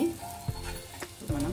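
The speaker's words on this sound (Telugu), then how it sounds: "రెండో వైపు కూడా దోశ ఫ్రై అయిందండి." Carrot dosa frying on a pan, a soft steady sizzle with a few brief stirring or scraping knocks, close and moderately quiet.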